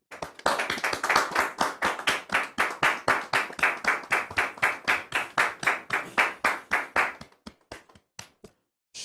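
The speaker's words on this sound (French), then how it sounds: "On le reçoit sous vos applaudissements, s'il vous plaît." A church audience welcomes a guest pastor with rhythmic unison clapping, loud and evenly paced at about four claps a second. It then thins out and trails off into scattered, fading claps near the end.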